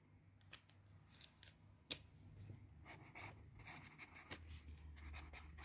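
Pen or marker writing by hand on a board or paper during a French verb conjugation lesson, quiet intermittent scratchy strokes with a few sharper taps, close and faint, no talking.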